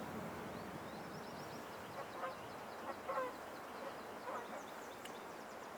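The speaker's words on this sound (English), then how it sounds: "Ah, the geese are flying overhead." Geese honk overhead in flight, a faint scattered series of calls rising over a steady outdoor background, several clustered around the middle of the clip.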